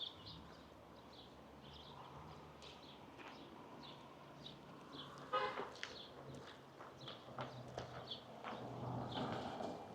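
A large horse walks near a long suspension bridge in Jerusalem's Hinnom Valley, hooves clip-clopping faintly and irregularly amid outdoor crowd noise and distant traffic, with a few car horn toots.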